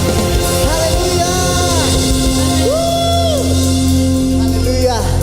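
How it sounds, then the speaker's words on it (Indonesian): A church congregation at an IFGF worship service in Semarang cheers with repeated rising whoops and shouts over sustained music, loud and lively throughout. "Berikan tepuk tangan yang paling meriah bagi Tuhan kita."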